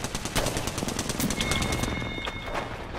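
Rapid automatic gunfire crackles without pause through a hectic Apex Legends match, loud and dense for the whole stretch, with several overlapping weapons and a couple of thin electronic tones cutting across it.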